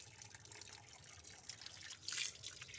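Tap water running and trickling while small pabda fish are rinsed at a sink, a steady close wash of splashing with a brief louder gush near the end.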